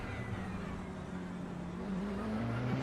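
A Ferrari race car in a racing video game at Spa-Francorchamps drones past, a steady engine whine and road rumble building slightly toward the end, moderately distant and alone.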